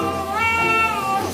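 A neighbour's cat meows for food: one drawn-out, whiny meow lasting about a second, close and fairly loud, with no talking.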